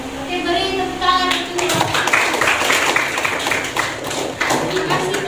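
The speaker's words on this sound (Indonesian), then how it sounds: "beri tepuk tangan" Classmates in an Indonesian school classroom clap after a group presentation, a loose patter of hand claps rising after a teacher's voice and continuing with chatter mixed in.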